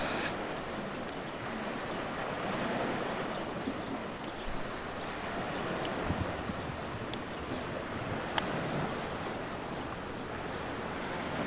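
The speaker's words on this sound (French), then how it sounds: "Il fait des petites vagues." Small waves lap along the Lake Ontario shore in a light breeze. The soft, continuous wash is fairly quiet, with gentle wind noise and a few faint splashes.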